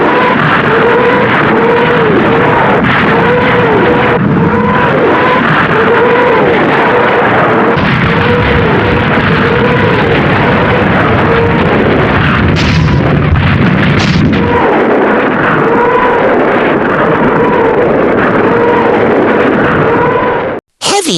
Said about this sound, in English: Soviet Katyusha rocket launcher.